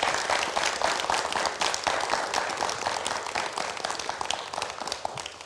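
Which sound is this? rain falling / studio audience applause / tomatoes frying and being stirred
studio audience applause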